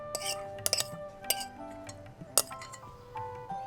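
Liquid is poured into a glass dish, with light clinks of glass and utensil sounding as scattered short taps over a quiet background.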